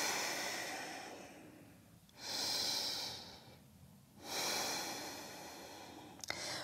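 Slow, steady breaths during a strength yoga pose, two long drawn inhale-exhale cycles close to the ear, each swelling and fading with quiet gaps between, no talking.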